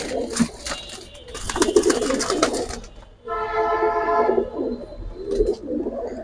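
Silver military jabra pigeons coo in soft, throaty bursts on a rainy day, close by and moderately loud, with a sustained coo in the middle and scattered fluttering and clatter around it.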